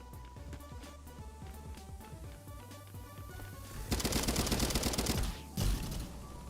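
Rapid automatic gunfire in a CSGO-like shooter video game, dense bursts that build into a louder sustained volley near the end, with a brief break and a final burst, under a steady background of game sound.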